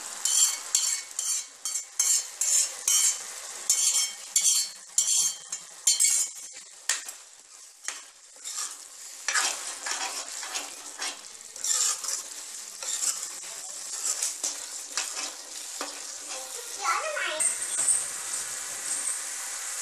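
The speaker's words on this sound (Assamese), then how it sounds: "এইখিনি ভালকে দহ মিনিট সময় ভাজি ল'ব লাগিব" Chicken curry with ginger paste fries in hot oil while a spoon stirs it: steady close sizzling under repeated scraping, clinking strokes, busiest at the start, with no voices.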